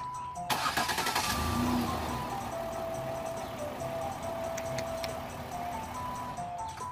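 A car engine cranks with a brief burst of clatter, then catches and settles into a steady idle humming on.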